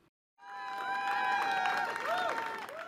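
Spectators at the finishing line of a tribute race erupt into cheering, shouting and applause after a moment of silence, the loud crowd swelling and holding steady.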